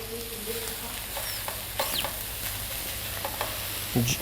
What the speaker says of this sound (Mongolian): За халбаараа дарж өгч шарах нь шүү дээ